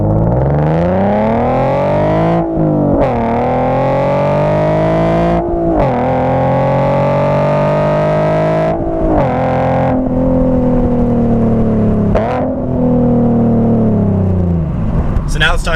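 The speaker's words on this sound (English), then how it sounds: "all of a sudden we'll have nothing but awesome exhaust" A wide body Nissan GT-R blasts a loud, raspy exhaust note through repeated rising revs, each pull broken by brief gear-change dips, close and sustained for about sixteen seconds.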